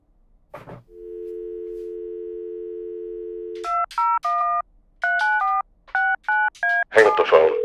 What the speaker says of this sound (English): Now make the phone call and place the order.